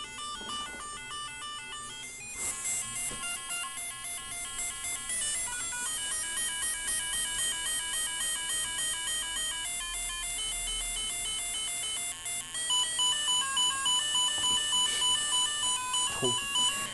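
A piezo buzzer driven by an Arduino plays random electronic sound effects, a continuous stream of shrill beeping tones and warbling pitch patterns that shift every few seconds and get louder near the end.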